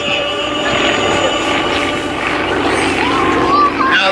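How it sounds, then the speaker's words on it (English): Two propeller airplanes fly aerobatic manoeuvres at the Wetaskiwin air show, a loud sustained engine drone with shifting pitch and a rising whine near the end, heard across an open field with a commentator talking over it. "Now the two aircraft are split away."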